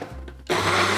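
A blender starts up to purée peppers, with a low hum giving way to a loud, steady whirring roar as the blades spin at full speed.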